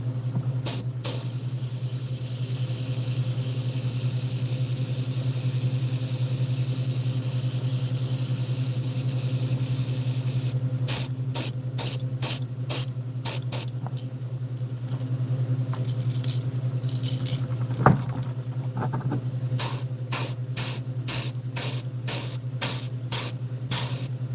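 An airbrush sprays paint onto a model crappie fish being prepared for a fishing expo. A steady close hiss runs throughout, and in the second half it is broken by rapid, regular clicking bursts.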